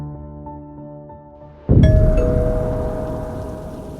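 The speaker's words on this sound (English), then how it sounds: "Grace woke up to the sound of the bell." A doorbell rings once with a bright sustained chime, cutting over a soft background of rain and low tonal music, then fading slowly as the rain continues.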